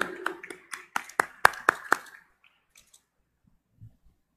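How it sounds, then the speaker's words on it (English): A brief round of hand clapping inside a cathedral during a Mass, about eight distinct sharp claps in a quickening sequence that stops abruptly, followed by near silence with faint shuffling. "Let us welcome with a round of applause"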